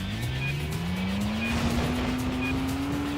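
Race car engine in the PS2 video game Stuntman, a steady loud drone rising slowly in pitch as the car accelerates, with a continuous tire squeal through a handbrake turn.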